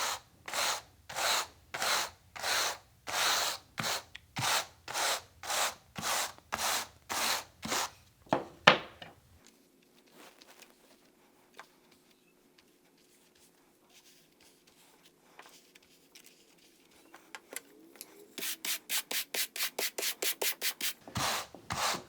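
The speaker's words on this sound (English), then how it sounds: "I'm going to take my brush that has the straight tongs and just brush in the fiber" Wool fiber brushed onto a blending board with a straight-tine brush, heard as a steady run of close, even scratchy strokes, then a quiet stretch of light handling, and finally a quicker burst of short brushing strokes.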